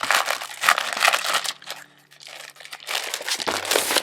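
Plastic packaging around a 12 by 12 paper collection with stickers crinkles and crumples up close as it is pulled open, loud rustling bursts with a brief quieter pause midway.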